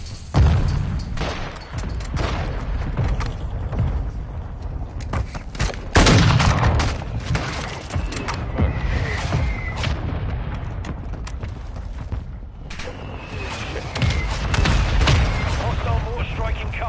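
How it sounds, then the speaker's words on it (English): Mortar strike explosions landing in Modern Warfare 2, a run of heavy booms and gunfire crashes spread across the clip, with the loudest impact near the middle and radio-style voices talking over the battle. "Our mortar strike is inbound."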